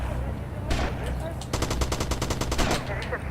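Shotgun fire in GTA Vice City: one heavy blast followed by a rapid train of about a dozen sharp repeated shots, loud and close, with game ambience underneath.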